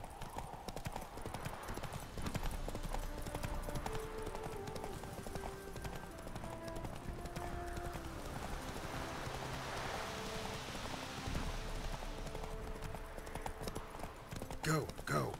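Roach, the horse in The Witcher 3 Wild Hunt, trots with steady clip-clop hoofbeats over rain and a game soundtrack, with a voice speaking over parts of it.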